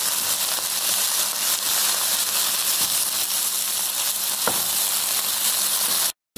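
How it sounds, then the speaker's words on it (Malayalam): Drumstick leaves and egg stir-frying in a pan over a low flame, giving a steady, loud sizzle with occasional scrapes of stirring and a brief cut to silence near the end. "ഇപ്പം മുരിങ്ങയില മുട്ടയൊക്കെ നന്നായിട്ട് മിക്സ് ചെയ്യാണ്"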